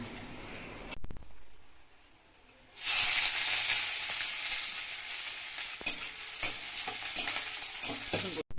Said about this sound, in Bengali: এই দেখো ডালটা এবারে আমি ফোড়নে দিয়ে দিলাম